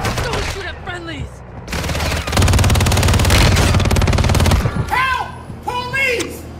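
Loud sustained automatic gunfire in Warzone Mobile, a dense rattling burst lasting a few seconds, framed by excited shouting voices before and after.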